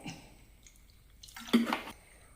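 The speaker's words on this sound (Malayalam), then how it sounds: "അല്പം വെള്ളം ചേർത്ത് വേണം അരച്ചെടുക്കാൻ." Water poured into a small mixer jar holding coconut for grinding, a short splashing pour lasting about half a second, close and moderately loud after a quiet start with faint clinks.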